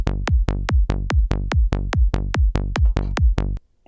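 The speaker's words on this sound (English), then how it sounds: "which is an offbeat sound." Synthesized psytrance offbeat bassline shaped by 8-note envelopes, punchy plucked bass hits in a fast even pulse, about fourteen notes with quick decays, loud and alone before stopping abruptly.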